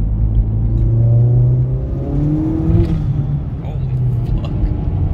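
A VW MK4 1.8T with a stage 2 tune accelerates through the gears with a rising engine drone and whir heard from inside the car, with a voice talking over it.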